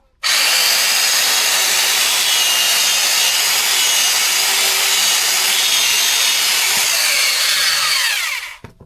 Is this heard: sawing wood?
yes